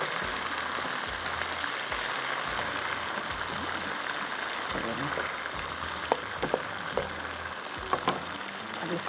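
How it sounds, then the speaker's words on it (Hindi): Mustard greens (saag) sautéing in a pan for a makai ki roti and saag meal, a steady frying hiss throughout with occasional soft stirring clicks near the end, no one talking. "अच्छी तरह से आपने इसको भूनना है"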